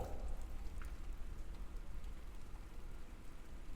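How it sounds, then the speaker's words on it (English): A storm outside brings steady, fairly quiet rain that hisses evenly without a break and without any voices. "The storm rages outside."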